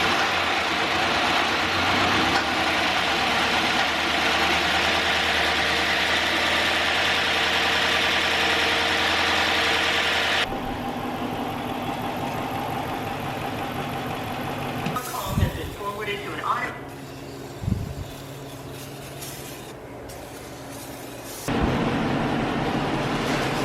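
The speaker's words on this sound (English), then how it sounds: "we're about to do a first start of the new Hemi engine that is installed" A newly installed Hemi V8 in a Dodge Challenger R/T runs for its first start, a loud close idle rumble that drops in level partway through, followed by quieter stretches with clanks and handling noise.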